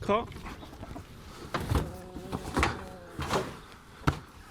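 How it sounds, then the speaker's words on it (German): Chickens cluck and murmur close by in short bursts, with a few sharper knocks mixed in and people talking faintly in the background. "Wir hatten eigentlich immer Hühner."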